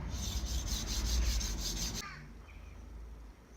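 A kitchen knife blade is rubbed back and forth on diamond sharpening stones, giving a steady gritty scraping for about two seconds before it stops and quiet room tone remains, with only faint light scrapes.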